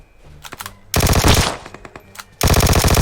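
Automatic gunfire in the mobile battle royale game PUBG Mobile, loud rapid bursts of shots with a pause between them and sharp mechanical clicks.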